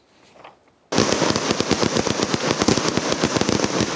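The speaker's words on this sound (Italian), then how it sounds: "È l'1:40 di notte quando inizia lo spettacolo dei fuochi d'artificio in piazza Palestro." Fireworks display in a town square during the Sant'Agata festival: after a second of quiet, a dense, loud barrage of rapid crackling bangs erupts and keeps going without pause.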